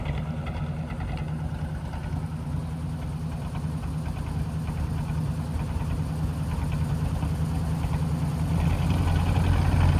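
A 1940 Ford Deluxe convertible club coupe engine idles steadily with a low, continuous rumble that rises slightly toward the end as throttle is added during top operation.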